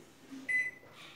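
A single short electronic beep from a microwave oven's keypad as grill mode is set, clear and close, with a quiet room hum around it.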